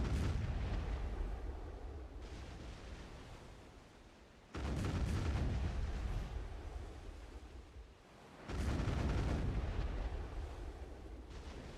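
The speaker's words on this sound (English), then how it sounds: "And premature cannon firings again." Cannons fire in a video game: a roaring blast at the start, then two more heavy booms, each followed by a long, rumbling tail that slowly fades.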